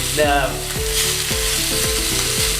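Honey glazed pork ribs sizzle loudly and steadily in a pan, a dense continuous frying hiss with rhythmic stirring or scraping under it and no talking.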